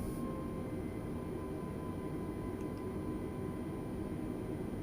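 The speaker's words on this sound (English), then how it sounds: "Giving the engine some power." An Airbus A320neo in Microsoft Flight Simulator taxis with its engine power raised, giving a steady broadband roar and hum that holds evenly throughout with no talking.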